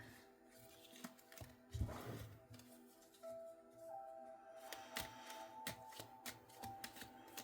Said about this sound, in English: I'm going to shuffle these back in.